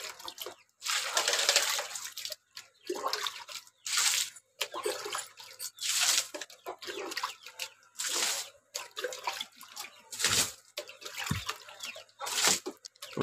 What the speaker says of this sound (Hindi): ठंडा पानी डाल देते हैं।